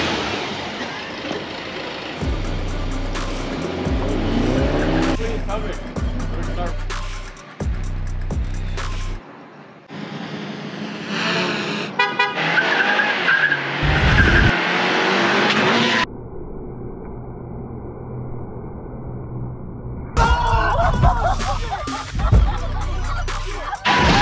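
Street car doing a hard launch from a standstill, its loud engine roaring and revving with bursts of tire noise, close by and loud, the sound cutting in and out with brief gaps.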